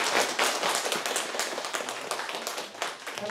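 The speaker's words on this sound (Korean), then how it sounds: "산타교회 박수 한번 쳐드립시다." A church congregation claps together at a gathering, brisk and irregular hand clapping from many people indoors, steady and moderately loud for a few seconds.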